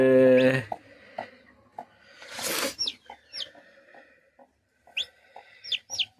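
Several newly hatched chicks give short, high peeping chirps in scattered bursts at a home in a village setting, with a brief louder rustle and a low clucking hen nearby.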